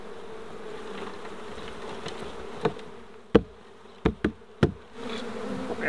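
Honeybees from a swarm being rescued out of an orange tree hum as a steady soft drone, broken by several sharp knocks from the hive equipment.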